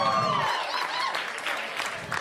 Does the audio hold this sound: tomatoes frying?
no